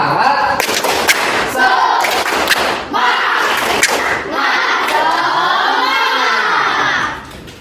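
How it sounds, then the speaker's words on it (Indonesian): Schoolchildren at an Indonesian primary school perform a rhythmic clapping chant, with sharp group claps punctuating loud shouted chanting in unison, then a long excited collective shout to finish. "biar semangat, kita tepuk semangat dulu ya"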